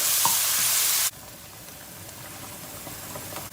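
Onions fry in a pan over medium heat, a steady loud sizzle that drops sharply to a quieter, gentler crackle partway through, with no talking.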